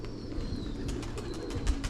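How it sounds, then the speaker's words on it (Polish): Pigeons coo softly and repeatedly nearby, a low rolling murmur with faint chirps over steady background noise, in the Polish town of Wiślica. "Trzeba trzeba na gołębie uważać."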